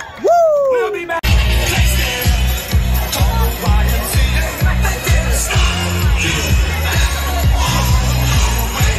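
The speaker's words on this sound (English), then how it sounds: "Give yourself a round of applause." Outdoor crowd in downtown Fairhope at a Rotary steak cook-off cheers and claps after a brief whoop, with lively chatter and a steady thumping music beat running underneath throughout.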